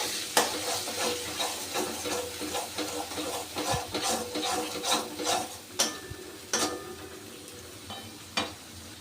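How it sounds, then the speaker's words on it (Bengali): Ground spice masala is stirred and sautéed in a pan, with a soft sizzle under repeated scraping strokes and a few sharp utensil knocks against the metal, close and without speech. "এবার এই মশলাটাকে খুব ভালো করে আমি কষে নেব।"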